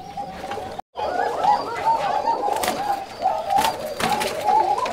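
Rajshahi Giribaj pigeons coo close by in repeated, overlapping rolling calls, with a brief dropout early on and a few sharper sounds mixed in.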